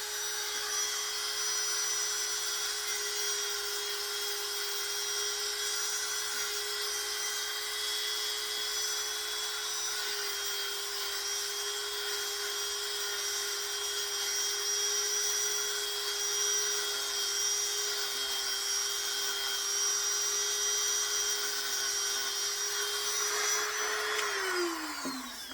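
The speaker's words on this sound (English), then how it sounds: "I will go to a smaller disc to get the finer stuff. And I have other Dremel stuff as well." A Dremel rotary tool fitted with a small disc sands a carved wooden sea turtle lure, whining at a steady high pitch for about 25 seconds before winding down at the end.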